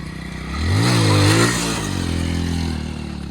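A motorcycle engine revs in first gear during a wheelie, a rising and falling roar that swells loud then settles into a steady drone, heard close with no talk.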